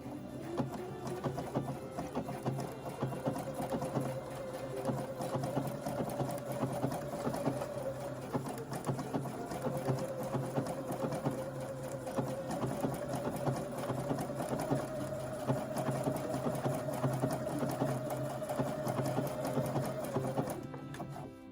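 A Viking sewing machine runs a backup stitch in a steady, continuous mechanical whir with a faint hum, close and moderately quiet, with no talking.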